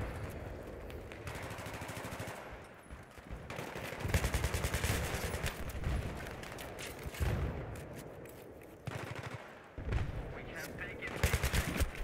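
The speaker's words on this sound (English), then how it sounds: "That's a grenade." Gunfire and a grenade blast in Battlefield 3 Conquest multiplayer, with dense bursts of shots and booming impacts running throughout, loud and continuous, broken by brief lulls.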